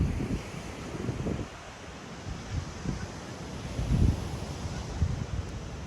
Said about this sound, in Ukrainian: Ось такий пляж.